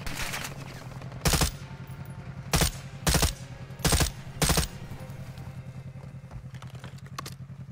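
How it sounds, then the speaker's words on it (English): Call of Duty Warzone gunfire comes as five sharp, loud bursts of shots spaced over several seconds, over a low steady hum of game ambience, with no talking. "we're getting shot at"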